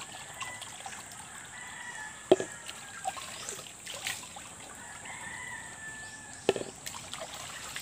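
Soft, steady trickle of water from a natural spring in a quiet outdoor setting, with a rooster crowing and a few sharp knocks.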